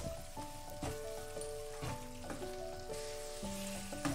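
Dried fish being stirred and fried with garam masala in a pan, a soft continuous sizzle with repeated spatula scrapes and clicks, close and fairly quiet.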